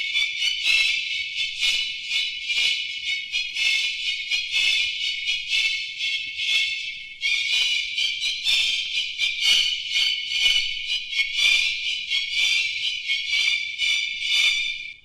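Orchestra music high-pass filtered above 2,000 cycles, leaving only thin, bright upper tones and string shimmer with no bass, playing steadily and fairly loud throughout.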